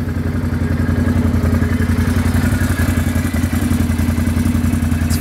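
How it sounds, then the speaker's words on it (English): Can-Am 500 Max XT Camo edition 4x4 four-wheeler with a fuel-injected V-twin and stock factory muffler, running steadily at a close, loud idle with a low, even rumble throughout. "Let's start her up. See what she sounds like."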